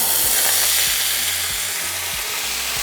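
Potatoes sizzle loudly in hot oil in a pan over medium-high heat, a dense continuous frying hiss with soft periodic knocks from stirring, close and without talk.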